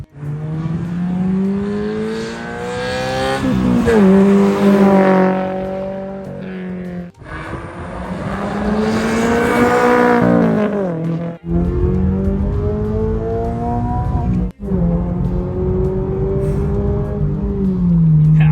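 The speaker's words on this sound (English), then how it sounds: "we had both titanium exhaust systems on this BRZ" A Subaru BRZ fitted with a titanium exhaust revs and accelerates hard through the gears, a loud, close engine note rising and falling in long pulls separated by brief shifts.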